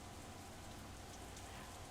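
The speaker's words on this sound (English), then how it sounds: "the rain seems to increase" Rain falls steadily in the visual novel Katawa Shoujo, a soft, even hiss of drops with no other sounds.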